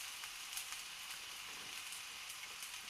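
Chopped onion sizzles in a hot pan of lentils and tofu, a steady broadband hiss with faint crackling pops throughout, fairly close and unbroken, with no one talking.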